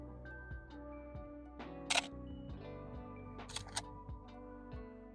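A Canon AE-1 film camera fires its shutter with a sharp mechanical click, followed a moment later by a pair of quick clicks, close and crisp over a quiet room.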